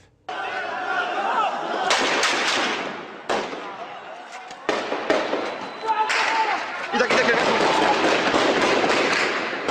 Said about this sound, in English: Sometimes, as it did today in the city of Idlib, shooting breaks out moments after they leave.